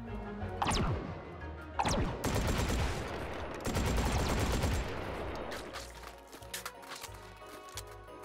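Rapid gunfire in the VR shooting game Hot Dogs, Horseshoes & Hand Grenades: a few sharp single shots, then a dense, loud burst of automatic fire with crashing impacts, tapering into scattered cracks.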